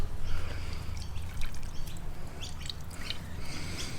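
Water drips from homemade paneer curd hanging in a cloth, light irregular drops falling close by over a quiet room, with no speech.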